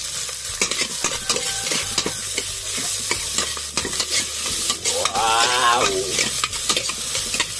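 Tomatoes sauté in a hot pan, a steady sizzle broken by repeated scraping stirs of a utensil against the pan, close and fairly loud with no talking.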